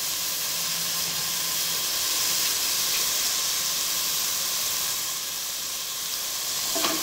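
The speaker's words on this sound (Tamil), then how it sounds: "சிக்கன் போட்டு நல்லா சிக்கனை அப்படி வதக்கணும்." Chicken pieces sauteing in a hot pan for a chicken curry give a steady, close sizzle and hiss with faint stirring scrapes, continuous for about seven seconds with no voices.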